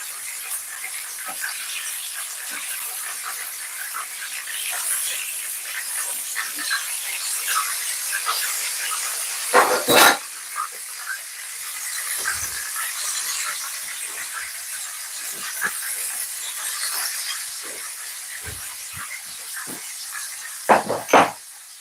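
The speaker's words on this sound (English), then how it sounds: "So I'm letting that boil." A garlic-seasoned sauce for a Jamaican Sunday dinner boils and hisses in a pot, giving a steady bright sizzle broken by a few sharp pops and bubbles, with no one talking.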